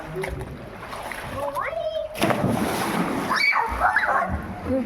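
A child jumps into a swimming pool, landing with a loud splash followed by churning water, while children's voices chatter excitedly throughout.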